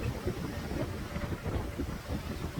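Strong wind on a dock at Lake Michigan batters the microphone with continuous low, gusty rumbling, loud and close throughout.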